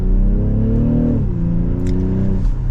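A 2023 BMW X6 xDrive40i M Sport pulls away and accelerates, its steady engine drone climbing in pitch, dropping briefly at a gear change, then rising again, heard close from inside the cabin.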